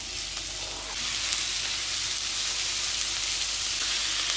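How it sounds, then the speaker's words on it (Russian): A steady, loud sizzle of onion frying in a little hot oil in a pan, the crackling hiss jumping up after a second and continuing evenly with no voices. "Первым делом на сковороду кладу лучок."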